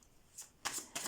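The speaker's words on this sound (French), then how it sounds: "je vais demander encore 3 cartes pour finir ce tirage" Tarot cards are shuffled and drawn close up in three quick, crisp bursts of riffling and sliding. The bursts are soft but clear, with no talking.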